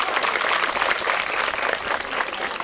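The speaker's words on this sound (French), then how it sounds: "applaudissez s'il vous plaît pour cette association." A crowd at a computer donation ceremony for a Gueoul school claps for the diaspora association, the applause loud, dense and sustained from start to end.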